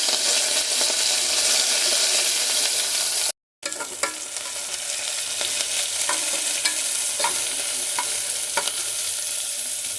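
Onion and curry leaves fry in hot oil with popping mustard seeds for a fish curry, a steady close sizzle with stirring scrapes and small crackles, broken by a brief gap of silence.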